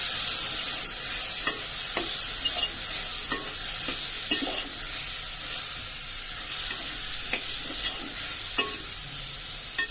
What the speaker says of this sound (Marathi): आणि हे वालाचे दाणे आणि बटाटा घालून घेते आणि व्यवस्थित मिक्स करते